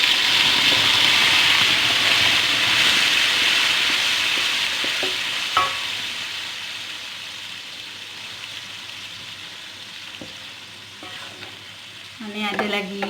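Chillies and shrimp paste sauté in the same oil, a loud hiss that fades slowly, broken by scraping stirs and clanks of a spatula toward the end.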